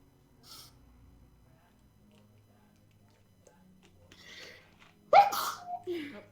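A person sneezes once, loud and close, a sharp burst after a stretch of quiet with faint murmurs and small sounds in the background.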